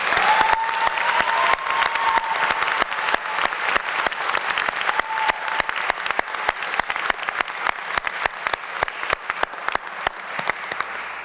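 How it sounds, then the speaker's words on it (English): An audience at an honors convocation breaks into sustained, loud applause, a dense clatter of many hands that thins slightly toward the end, with no talk over it. "Let's give them a round of applause."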